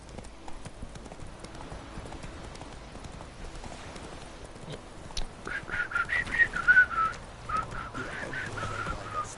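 Roach the horse trots in The Witcher 3 with steady, rhythmic clip-clop hoofbeats throughout, joined later by whistling, birdlike tones.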